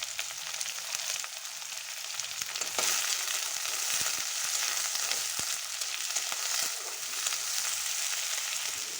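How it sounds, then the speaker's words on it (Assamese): Finely chopped onions fry in a hot pan for a drumstick leaf dish, giving a steady bright sizzle throughout with a few sharp clicks and stirring knocks, close and fairly loud with no voices. "এয়া মই মিহিকৈ কাটি লোৱা পিঁয়াজ ভাজিবৰ বাবে দি লৈছোঁ"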